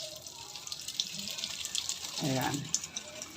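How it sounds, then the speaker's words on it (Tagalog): Water running from a tap over a printer's waste ink pad being rinsed, a constant hissing flow with a short spoken word partway through. "ilalagay lang natin siya sa ilalim ng gripo. Tapos, i-open natin. Tapos, huhugasan niya na yan."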